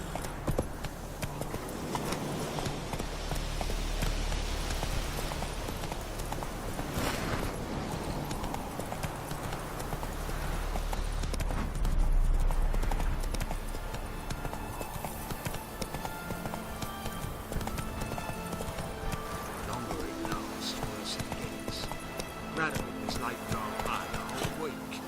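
Horse hooves gallop in The Witcher 3, a steady rapid clip-clop running throughout at moderate loudness, with faint background music and ambience.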